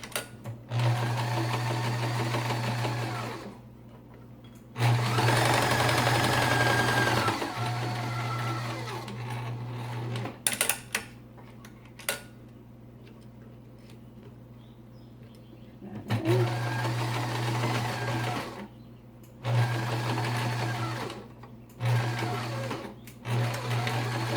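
A sewing machine stitches the bottom edge of a fabric surgical mask with a 1/4 inch seam allowance, running in close, loud, steady bursts of a few seconds each, separated by short pauses.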